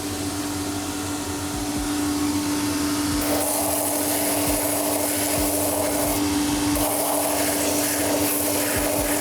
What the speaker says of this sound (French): on va allumer la machine qui est ici, on va gratter l'ancien liège